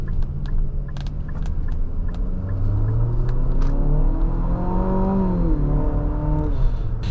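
A 2026 Infiniti QX60 Autograph SUV engine revs up and climbs in pitch as it accelerates, a steady rising drone with a shift partway through, heard close with no talking.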